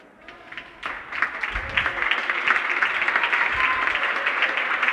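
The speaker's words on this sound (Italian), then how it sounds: "E penso possiate sentire gli applausi dal pubblico, fortunatamente." Spectators at a Foligno versus Grosseto volleyball match break into applause that builds from scattered claps to a steady, full clapping from the crowd.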